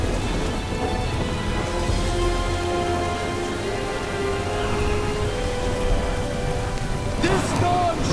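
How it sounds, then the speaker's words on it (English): Heavy storm rain pours steadily at sea in Prince of Persia: Warrior Within, with low rumbling thunder beneath and a sharper crack near the end, loud and continuous with no talk. "This storm shows us no mercy."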